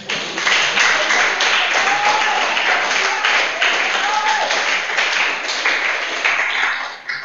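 A church congregation applauding, sustained loud clapping from many hands for about seven seconds, with a voice briefly heard over it.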